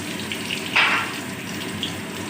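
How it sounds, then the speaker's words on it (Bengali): Dried and green chillies, then nigella seeds, drop into hot mustard oil in a pan. A sudden loud burst of sizzling settles into a steady, close frying hiss. "সর্ষের তেল গরম হয়ে গেছে, দিয়ে দিলাম শুকনো লঙ্কা, কাঁচা লঙ্কা ফোড়ন।"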